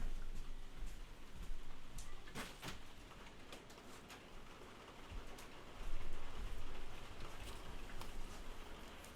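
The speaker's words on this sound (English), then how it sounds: "Oh, it's raining, guys." Rain falling outside an open window, a faint, even hiss of drops with scattered sharper ticks running throughout, with no voices.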